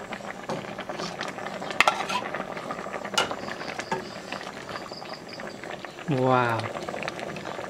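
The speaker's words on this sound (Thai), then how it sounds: "โอเคครับหม้อเดือดแล้วนะครับเขาก็จะใส่ปลาลงไป" Fish being added to a boiling pot of gourd curry in a northern Thai kitchen, with steady bubbling and a few utensil clinks, and a short exclaimed voice near the end.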